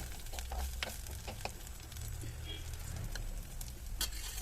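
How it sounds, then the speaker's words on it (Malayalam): Tomatoes sizzling in a hot pan while okra curry is stirred, a steady close frying hiss with occasional scraping stir strokes and no talking. "ഇനി തക്കാളിയും ചേർത്ത് കൊടുത്തിട്ട് എല്ലാം കൂടി നല്ലോണം ഇളക്കി യോജിപ്പിച്ചതിന് ശേഷം ഈ ഒരു തക്കാളി ചെറുതായിട്ടൊന്ന് വാടി വരുന്നത് വരെ ഒന്ന് ചൂടാക്കിയെടുക്കാം"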